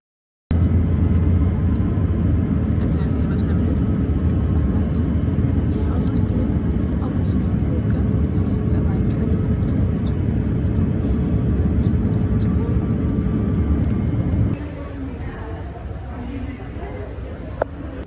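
Steady, loud broadband roar inside an airplane cabin in flight before landing in Japan, continuous and unchanging, dropping slightly in level near the end with a few faint clinks.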